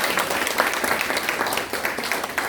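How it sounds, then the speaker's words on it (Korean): A church congregation at a Sunday worship service claps steadily for its Sunday school teachers, a dense, even round of applause close by with no talk over it. "박수로 한번 축복하고요."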